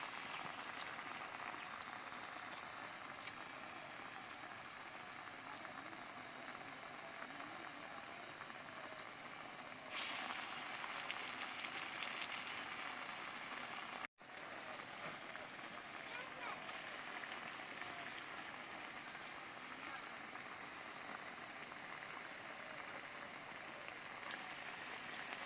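Lentil fritters (dal bora) frying in hot oil, giving a steady, even crackling hiss throughout with a few brief louder bubbling bursts.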